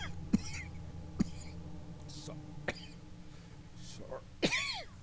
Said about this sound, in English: I'm going to cough all the time.